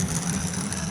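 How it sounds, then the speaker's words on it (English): Rusty old LEGO toy car with a struggling engine rattling down a track, a brief continuous engine-like drone, fairly quiet and steady. "The engine is struggling."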